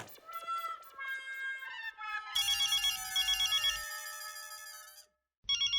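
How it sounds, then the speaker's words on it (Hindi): A melodic electronic phone ringtone plays loudly, breaks off for a moment, then starts again. "अंजलि का फोन।"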